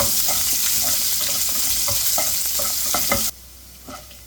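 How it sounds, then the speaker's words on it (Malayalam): Shallots and curry leaves fry in sesame oil with a loud, steady sizzle broken by a series of spoon-stirring scrapes, then the crackle drops abruptly quieter near the end. "പിന്നെ ഇതിലേക്ക് മുറിച്ച് ചെറിയുള്ളിയും കൂടെ ഇട്ട് കൊടുക്കാം ഉള്ളി നന്നായിട്ടൊന്ന് മെരിഞ്ഞ് വരട്ടെ"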